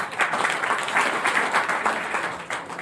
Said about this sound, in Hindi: तालियां होनी चाहिए सबके लिए।